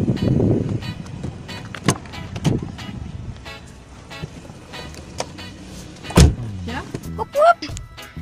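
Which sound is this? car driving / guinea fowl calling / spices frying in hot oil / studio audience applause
car driving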